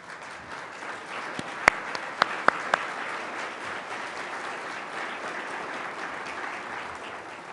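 An audience applauds to welcome Net Impact's executive director, a steady wash of clapping with a few sharp, distinct claps near the start, moderately close and sustained throughout.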